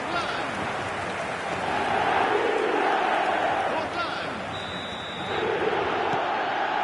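A stadium crowd in the eFootball 2026 video game roars after a goal in a Champions League match, a broad sustained wall of cheering that swells and dips, with commentary running over it.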